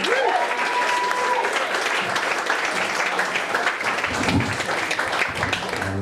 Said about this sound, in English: Let's put your hands together for Roman Pierce, everyone.